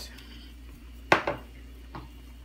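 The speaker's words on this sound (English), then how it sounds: "We're gonna stir that in." A spoon stirs soy sauce into ramen soup with vegetables in a pot, giving two quick metallic clinks and then a softer knock, faint and close in a quiet kitchen.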